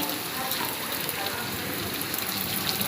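Steady rain pours down, a dense, even hiss of drops hitting surfaces that stays constant throughout without pause.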